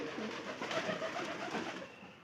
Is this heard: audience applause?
no